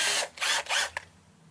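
A power drill fitted with a Harbor Freight titanium nitride bit whirs in three short, loud bursts, the last one briefest, before falling quiet.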